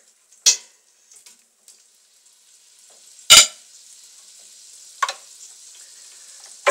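Butter dropped into hot oil in a frying pan while cooking Argentine beef goulash gives a steady faint sizzle, broken by a few sharp clatters of utensils against the pan.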